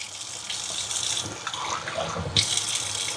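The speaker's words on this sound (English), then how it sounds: "I'm going to take some water. I want to get the water hot." Water runs steadily from a kitchen tap into a sink, a constant close hiss and splash that shifts slightly in tone as the flow changes, with no talk.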